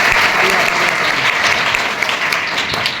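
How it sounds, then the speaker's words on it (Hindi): Loud, dense applause from an audience for the performers at a Hindi-language cultural program, sustained steadily across the whole stretch with no pauses. "एक बार सब कलाकारों की जोरदार ताली बजाएंगे।"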